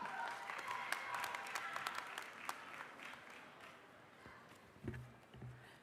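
Applause from the crowd at a spring university commencement ceremony, a dense wash of clapping that gradually thins and fades, with a few louder bumps near the end.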